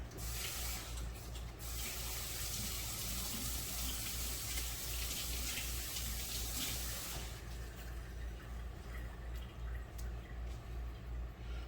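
Steady hiss of water running from a tap as large food items are rinsed, continuous and fairly loud, with a brighter splashing stretch partway through.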